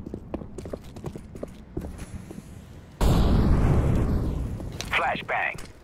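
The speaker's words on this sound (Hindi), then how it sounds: "फ्लैशबैंग" A flashbang grenade in the video game Counter-Strike: Global Offensive goes off with a sudden loud blast partway through, followed by a sustained ringing hiss; footsteps and game sounds come before it, with a voice briefly audible.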